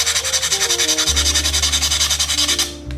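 A Nissan GT-R R35 body panel is sanded by hand in rapid rhythmic back-and-forth strokes, a loud close scratchy rasp that pulses evenly and then trails off near the end, with a low hum underneath.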